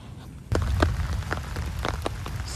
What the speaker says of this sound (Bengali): রাস্তায় আছি এখনো, কিন্তু বৃষ্টি কিন্তু শুরু হয়ে গেছে।